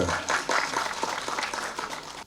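Applause from the audience at a Tamil movie press meet for Ananda Vaazhkai, a dense patter of many hands clapping at moderate loudness, steady for a couple of seconds with faint voices mixed in.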